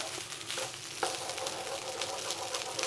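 Rice and ingredients fry in a pan, a continuous close hiss and crackle of sizzling oil with a few light stirring knocks, steady for about three seconds.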